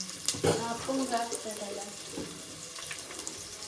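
Curry leaves and onions hit hot oil in a home kitchen pan, giving a steady close hiss and crackle with a few stirring clatters, while voices talk quietly in the background.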